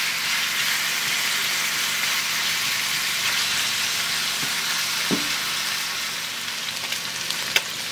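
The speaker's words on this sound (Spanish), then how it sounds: "Ya que vemos que nuestra carnita empieza a dorar o a freírse" Beef steak browning in a hot pan, a dense, even sizzle that holds steady throughout, close and loud, with a couple of faint utensil taps near the end.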